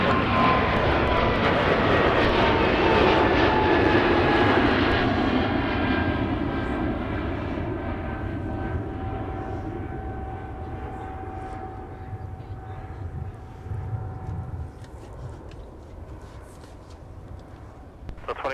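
An airliner departs runway 30 left at Minneapolis–Saint Paul airport, its engine roar loud and whining at first, then steadily fading as it climbs away, with tonal engine whine lingering.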